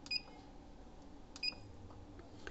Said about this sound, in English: whenever you will press a key, it will make a sound